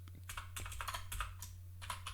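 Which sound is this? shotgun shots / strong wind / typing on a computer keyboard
typing on a computer keyboard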